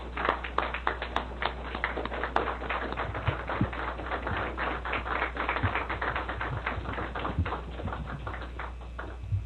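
An audience applauds as President Michel Martelly is introduced at a Technology Week event. Dense, crisp clapping from a moderate crowd runs steadily throughout over a low constant hum, with no speech.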